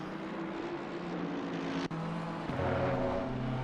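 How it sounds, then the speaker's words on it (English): A BMW GT3 race car in Assetto Corsa Competizione drones steadily at high revs, with a shift around midway. The engine note grows louder and fuller as the car draws closer. "See, here he comes in the BMW."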